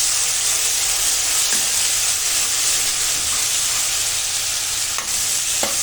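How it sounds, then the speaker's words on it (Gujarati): Cloves, curry leaves, red chilli and a ginger-garlic-chilli paste sauté in hot oil for chhole, giving a loud, continuous hissing sizzle with a few faint clicks of stirring. "લસણની જે પેસ્ટ બનાવી છે એ નાખી અને જરા સાંતળી દેવાની."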